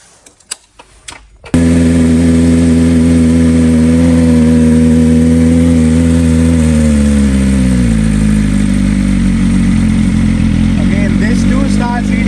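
A BMW M1000RR superbike with an aftermarket exhaust fired up: a few clicks, then the engine catches and roars at a loud, steady, deep idle that drops slightly in pitch as it settles, with brief voices near the end.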